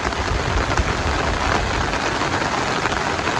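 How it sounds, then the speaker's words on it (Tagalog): Steady rain falling on the water of a fish pond, a dense, even hiss that continues loud and close throughout with no voices. "Maganda pong tingnan itong itong tubig. Gawa ng napapatakan po ng tubig ulan."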